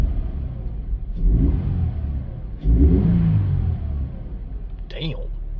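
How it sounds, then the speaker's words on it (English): A Subaru BRZ with a GrimmSpeed intake takes two short, gentle revs from idle, each rising and falling in a rumbling swell, recorded close, with a voice briefly audible at the end. "let's give it some baby revs from the inside"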